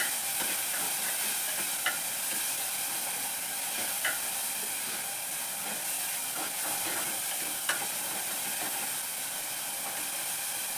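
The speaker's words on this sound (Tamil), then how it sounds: "தக்காளி நல்லா வதங்கட்டேன்." Tomatoes sauté in a pan for Kerala-style fish curry, giving a steady, dense frying hiss with a few sharp stirring clicks scattered throughout.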